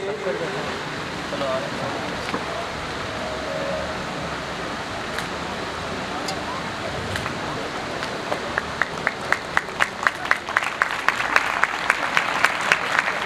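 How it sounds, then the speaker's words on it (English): Applause at a school prize distribution ceremony, starting as a diffuse crowd murmur and building into distinct, increasingly rapid clapping over the last several seconds, with some background talk. "A huge round of applause for Muhammad Uzair."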